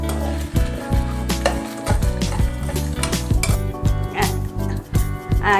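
Spices roasting in a pan while a metal spoon stirs and scrapes, giving repeated loud clinks and clatters against the pan over a low background hum, with no talking.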